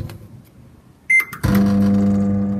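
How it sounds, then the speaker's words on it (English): A microwave oven melting butter: a sharp beep, then a click as it starts, followed by a steady, loud electric hum that runs on evenly to the end. "I would melt the butter and I'll put it in the microwave for 10 to 15 seconds"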